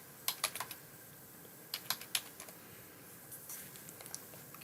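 Light, crisp keystrokes on a computer keyboard arrive in a few quick clusters separated by pauses, faint and close in a quiet room with no talking.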